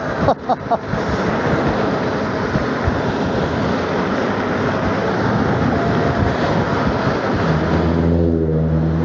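Nanrobot N6 72V electric scooter riding fast uphill, heard as a loud, continuous rush of wind and road roar with a faint motor whine. Brief knocks sound at the start, and there is no talking.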